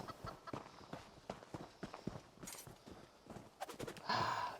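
Horse in Elder Scrolls Online, a series of quick hoof clops and footfall thumps in an uneven trotting rhythm, fairly close, ending in a brief louder burst of noise.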